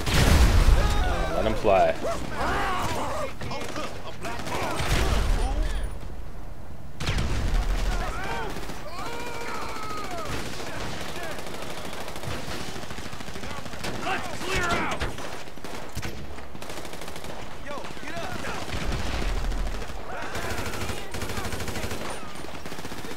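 Gunfire and rocket launcher blasts from GTA 5 (Hood Safari mission) rattle through most of the stretch, with dense bursts and heavier booms under ongoing talk from a man.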